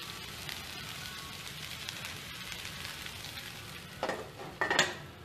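Stuffed okra with tamarind, jaggery and goda masala being stirred in a pan, a soft steady sizzle with faint scraping and a couple of louder stirring clatters near the end.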